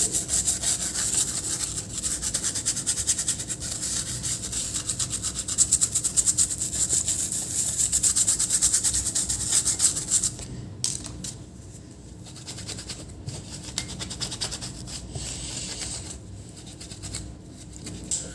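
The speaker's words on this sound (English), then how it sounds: "I'm using thinner for cleaning the circuit." A brush scrubs a Lenovo laptop circuit board with thinner in steady, rapid rubbing strokes, loud and close at first, then turning softer and more broken up toward the end.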